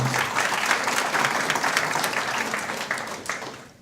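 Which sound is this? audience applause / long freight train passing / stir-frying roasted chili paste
audience applause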